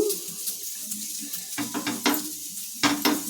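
An onion half is rubbed across a hot dosa pan, making a soft sizzle with scraping strokes and light metallic knocks in short bursts close by.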